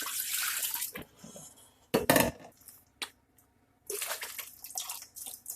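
Water pours in bursts into a pot for fig jam, splashing loudly with pauses between pours and a few sharp knocks of the container, with no talk.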